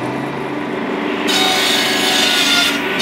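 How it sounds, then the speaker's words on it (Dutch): A sawing machine cuts through a piece of firewood, its steady grinding rasp jumping louder about a second in as the blade bites and then holding evenly to the end, with no talking. "Een stukje hout voor de zaagmachine."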